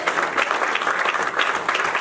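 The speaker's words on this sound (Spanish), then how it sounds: "Denle un aplauso al Rey Todopoderoso" A church congregation applauds steadily and fairly loudly, a dense continuous clapping that fills the space with no pauses.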